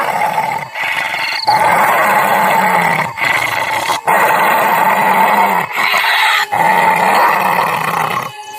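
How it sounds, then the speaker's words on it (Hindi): Low, rumbling growls from a creature hidden in bushes rise and fall continuously, loud and close, with brief pauses between snarling bursts. "झाड़ियों में से किसी के गुर्राने की आवाज आने लगती है"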